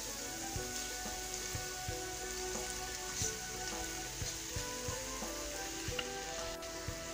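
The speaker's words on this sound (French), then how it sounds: "je rajoute ma viande hachée" Minced meat and onions frying in a pan for a Moroccan pastilla filling, giving a soft, constant crackling sizzle dotted with small pops and occasional stirring clicks, fairly quiet and without speech.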